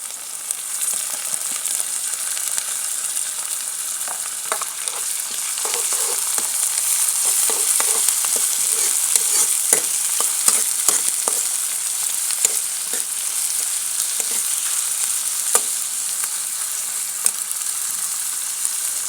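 Capsicum, onion and tomato sizzle steadily in a pan for vegetable noodles, with a constant hiss of frying and repeated soft scraping and clicking from stirring.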